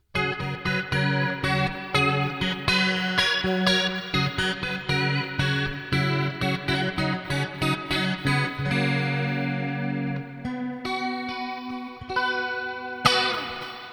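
An Ibanez PGM electric guitar on its fourth pickup position runs through a chorus preset on a Valeton unit. It plays a fast run of picked notes, then held chords ringing out, alone and without voices.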